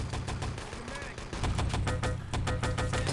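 Rapid gunfire in the first-person shooter Enemy Territory during a 6on6 tournament match, a dense stream of rhythmic shots close up over constant game noise.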